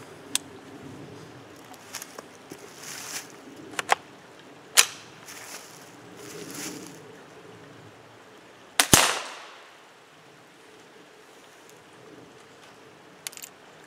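A Mossberg Blaze .22lr rifle fires several sharp, light cracks spaced a few seconds apart outdoors, one shot notably louder, with faint background between.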